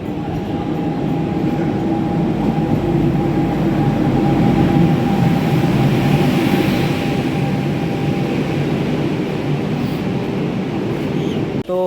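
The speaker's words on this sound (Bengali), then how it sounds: "এই যে আমার সামনে দাঁড়িয়ে আছে জঙ্গিপুর রোড এক্সপ্রেস" Loud, continuous rumble and hum of the Jangipur Road Express passenger train nearby, with a steady tonal drone and broad roaring noise throughout, no voices.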